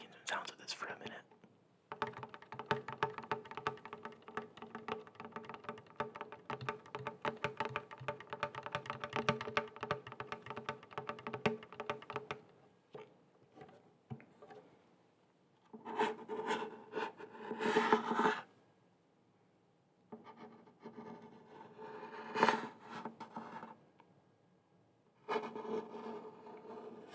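Slow tapping and scratching on a guitar's wooden body, soft close-up taps and rasps in dense bursts, then sparser clusters separated by quiet gaps, with whispering in places.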